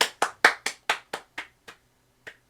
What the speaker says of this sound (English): Haha, I clapped.